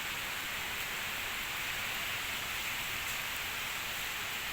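Constant, dense hiss of heavy rain and rushing wind from Typhoon Quinta in the Bicol Region, steady and loud with no pauses or voices.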